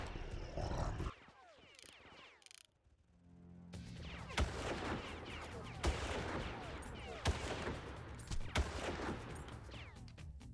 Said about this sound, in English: it is a constant barrage of shooting